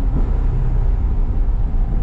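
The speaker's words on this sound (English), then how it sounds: "And you can kinda hear the exhaust tune a little bit." A C8 Chevrolet Corvette with stock exhaust gives off a steady, deep low rumble from inside the moving car, a constant drone with no talking over it.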